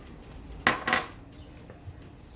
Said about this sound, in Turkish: Şimdi güzelce karıştıralım.